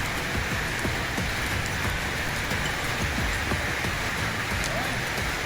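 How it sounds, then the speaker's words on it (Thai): Rain falls steadily and loudly on surfaces outdoors, a dense continuous patter with scattered individual drops, constant from start to finish with no one speaking. "ตอนนี้ช่วงบรรยากาศฝนตกนะคะ"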